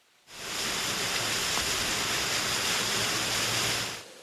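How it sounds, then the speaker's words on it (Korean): Water from Sambuyeon waterfall, a 20 m fall mostly turned to ice in a severe cold snap, gives a continuous hissing rush that starts abruptly, holds steady and evenly loud, then fades at the end. "귀를 기울여야만 나지막한 물소리가 들립니다"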